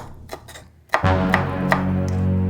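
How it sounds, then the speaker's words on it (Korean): Bell pepper being finely chopped with a knife on a board, a few sharp isolated cuts followed by a louder, steady stretch of sound close to the mic. "잘게 썰어 달래."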